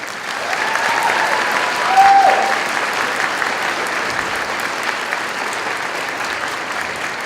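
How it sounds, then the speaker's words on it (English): An audience at a Linfield nursing pinning ceremony applauds faculty and staff, a steady, dense clapping that fills the hall for several seconds and swells briefly before holding at an even level. "Please join me in giving a round of applause to our faculty and staff."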